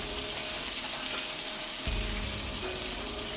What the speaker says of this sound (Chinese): 翻炒几下